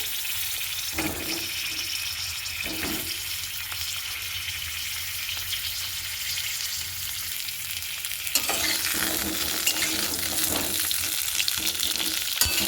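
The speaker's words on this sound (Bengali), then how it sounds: "এবার পটলগুলো ভালো করে আমি ভেজে নেব।" Pointed gourd (potol) pieces frying plain in oil without salt or turmeric give a steady, close hiss and sizzle with occasional stirring scrapes, growing louder and denser over the last few seconds.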